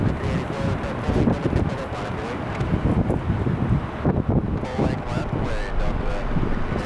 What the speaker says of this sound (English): It's a gusty day here at LAX today.